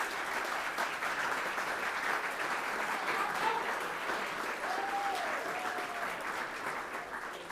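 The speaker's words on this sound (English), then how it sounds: "Let's all give John a round of applause on his retirement." Audience applause for a retirement at a mayoral State of the City address, a steady wash of clapping from a large crowd that holds for the full stretch at an even level, with faint voices mixed underneath.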